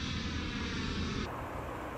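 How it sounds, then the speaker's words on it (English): A jet airliner's engines roar steadily on landing approach, the broadband whine dropping in pitch and brightness partway through as the power eases back, close and continuous. "As the plane comes closer to the ground, the engines are slowing down, creating a unique sound."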